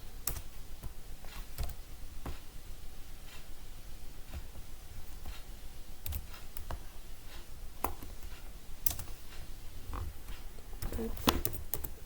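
Keys tapped on a computer keyboard while entering a spreadsheet formula, steady soft clicks through the whole stretch with occasional sharper strokes, faint and close over a low background hum.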